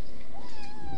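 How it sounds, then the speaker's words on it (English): A young kitten, about two months old, lets out a single drawn-out meow over a steady indoor background, close and fairly loud, with no speech. "Hannah, give me the cat."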